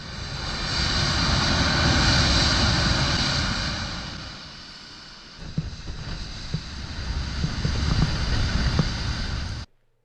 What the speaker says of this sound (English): These things sounded like a jet engine going off.